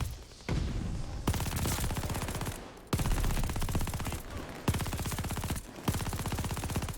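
MG42 machine gun in Call of Duty Vanguard firing several loud, rapid bursts of densely packed shots, separated by short pauses, with no talk.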